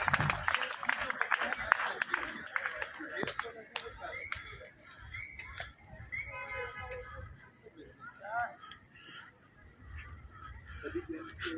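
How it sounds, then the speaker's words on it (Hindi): Applause rises from the crowd at a school sports event on a campus with games underway, loud at first and then thinning into scattered claps under crowd noise and nearby talk. "तालियों की गड़गड़ाहट"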